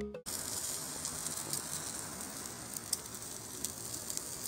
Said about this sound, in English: is firstly cooked on a barbecue for a smoky depth of flavor